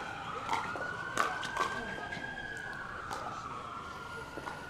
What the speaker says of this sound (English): Have the cops been called for this this match here as we hear the sirens in the background?